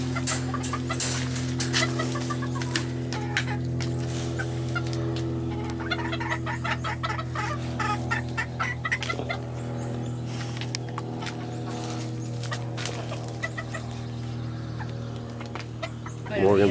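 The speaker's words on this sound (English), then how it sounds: "There's my rooster." Rooster and hens in a backyard chicken pen, with clucking and calls running steadily throughout, loud and close, and brief human voices mixed in.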